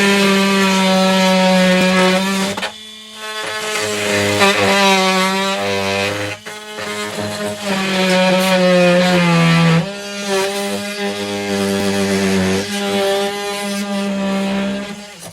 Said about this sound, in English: The oscillating tool was kind of nice.